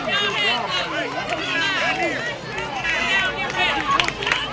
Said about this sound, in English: Listen to that crowd go wild.